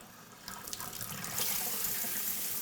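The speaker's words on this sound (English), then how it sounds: "I'll just rinse all this, get the big stuff off." Warm tap water runs steadily while a Midea 50-pint MAD50PS1AWBL dehumidifier filter is rinsed under it, a continuous close splashing hiss that swells louder partway through and keeps flowing.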